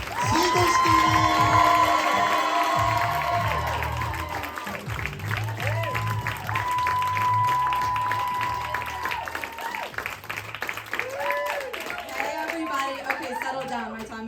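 Comedy club audience at the Comedy Loft in DC clapping and cheering for comedian Dana Seigelstein, a loud sustained burst of applause and whoops that slowly tapers, with scattered shouts and chatter mixed in.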